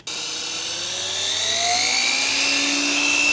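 A saw blade disc spins up and grinds into wood with a high, steady whine that rises slightly in pitch as it bites, loud and continuous with no talking.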